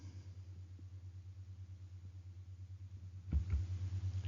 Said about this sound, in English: She was driving through the countryside.